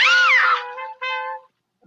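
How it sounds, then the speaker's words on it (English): A cartoon cat, Sebastian from Josie and the Pussycats, gives two clear, loud meows, the first longer and bending in pitch, the second shorter and flatter, with no talk. "Yeah, Sebastian the cat."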